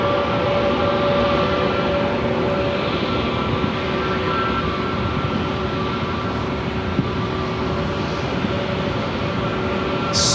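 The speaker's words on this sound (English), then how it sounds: "We have our next arrival on runway 8 coming up." A jet airliner arriving on runway 8 at Phoenix Sky Harbor airport roars steadily and loudly for the whole stretch, a broad continuous engine rumble with faint tonal whine, heard from a spotting position without voices.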